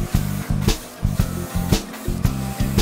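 Paint sprayed onto the fin rays of a smallmouth bass reproduction comes as a rapid series of short, even hissing bursts over a steady mechanical hum, close and fairly loud.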